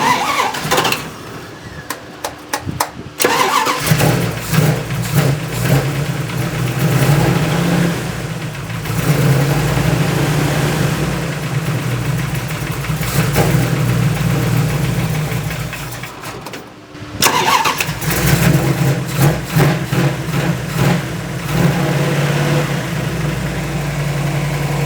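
A stroker engine fitted with Holley carburetors cranks, catches and settles into a loud, steady, rumbling idle running rich, then is shut off and restarted near the end.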